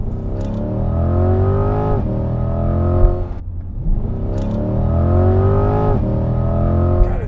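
A Chevrolet C8 Corvette Z51 with LT2 V8 and custom carbon parts heard from inside while driving, engine revving up through gears in two rising pulls with a brief dip between shifts.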